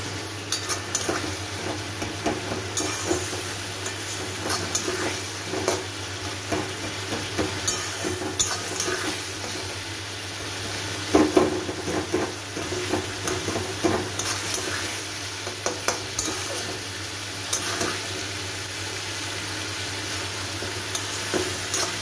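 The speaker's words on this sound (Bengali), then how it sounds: "একটুখানি কষানো হলেই আমি মাংসটা এর মধ্যে দিয়ে দেবো।" Chicken curry masala stirred and frying in a pan, a steady close sizzle broken by repeated scraping strokes of a spoon over about twenty seconds, with no talking.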